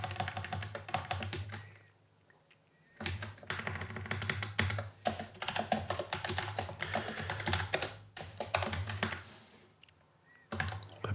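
A computer keyboard clatters with bursts of fast typing during a programming session, separated by short quiet pauses, close and fairly soft.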